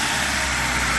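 A rebuilt car engine idles smoothly and steadily, a constant low hum with a broad rushing noise, close up and with no voices.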